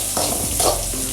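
Sliced onions with ginger and garlic stirred in a hot pan for a Kerala-style chicken stew, a close, brief burst of sizzling frying with a few scraping stirs of the spoon through the mix.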